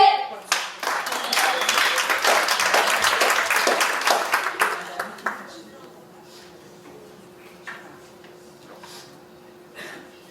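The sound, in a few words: applause for Marie-Josée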